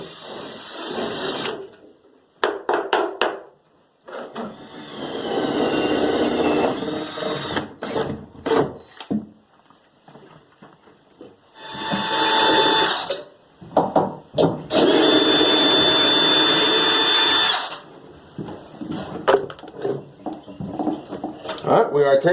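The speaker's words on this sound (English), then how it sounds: "Now I'm going to get my hole saw and go ahead and drill a hole through this part of the floor in the corner" A hole saw bores through a wooden floor in a corner near a floor joist during a tiny house build, with loud grinding bursts of drilling separated by pauses and clattering tool handling.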